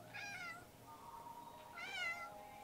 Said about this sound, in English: It's going to be one meow. Two meows. Three meows.